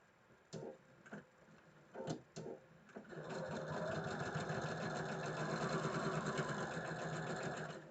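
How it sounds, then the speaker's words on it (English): A sewing machine joins quilt block pieces, starting with a few separate clicks and thumps as fabric is positioned, then running in one long, steady, close whirring stretch of stitching. "So I'm going to start by sewing these together"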